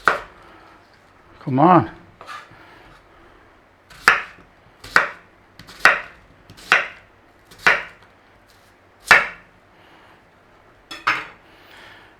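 A knife chops an onion into slices on a cutting board, giving about ten sharp separate knocks spaced irregularly, with a brief spoken voice early on.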